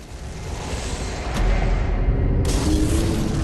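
An explosion in Bloodborne that kills the player, a loud low boom swelling in around the midpoint and holding as a heavy rumbling roar, with a sharp burst joining near the end.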